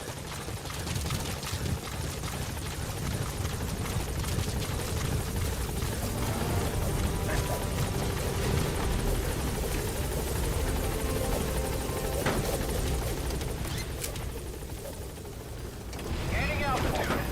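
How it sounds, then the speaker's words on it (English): Support helicopter in the Metal Gear Solid V video game, a steady, loud rotor drone and engine whine holding throughout, with voices mixed in beneath it. "Support helicopter has arrived."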